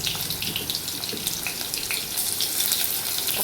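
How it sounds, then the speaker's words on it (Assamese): Onion and garlic fry in oil in a pan for an Assamese-style dal, giving a steady close hiss and crackle of sizzling that runs unbroken with no talk. "পিঁয়াজ নহৰু এইবিলাক দি চম্বাৰত এইখিনি ভালকৈ ভাজি ল'ব লাগিব আগতে।"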